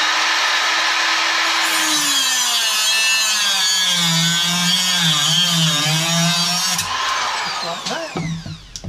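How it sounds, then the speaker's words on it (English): A hand saw cuts steadily through a metal eye bolt clamped in a vise, a loud continuous rasping whine with shifting pitch that runs for several seconds, then breaks off into a few final strokes. "I just grab them here in the vise and I just cut me a hook out of it"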